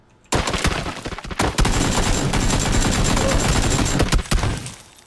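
Dense, loud automatic gunfire from PUBG rattles almost without pause for several seconds, rapid overlapping shots and bursts close by with faint voices mixed in.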